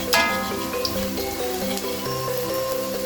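Bala-bala vegetable fritters fry in hot oil on a rainy day, giving a continuous close sizzle with bright crackles, while sustained tonal sounds run over it.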